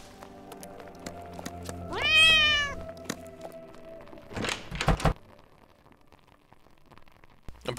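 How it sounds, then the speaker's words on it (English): Cat meowing in the stealth video game Monaco: a single drawn-out, rising and falling meow stands clear over a steady game ambience, followed shortly by a few thumping knocks. "cats in this game are jerks"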